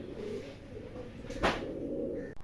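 Fancy pigeons cooing at a farm, a soft low call repeating under a faint background hum, with a brief sharp noise in the middle.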